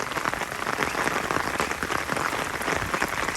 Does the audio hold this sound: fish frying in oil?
no